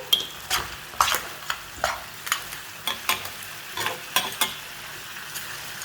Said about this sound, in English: Add the crab and give it a quick stir.